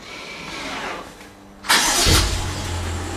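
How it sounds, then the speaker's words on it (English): A 2017 BMW 750i xDrive starting up, quiet cabin hum followed by a sudden loud crank that catches and settles into a steady low idle rumble. "And as you can tell, the car is starting up."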